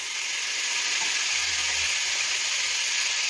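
Beef frying in a pan for boeuf bourguignon, a steady bright hissing sizzle throughout, close and even, with a faint low stir or bump partway through.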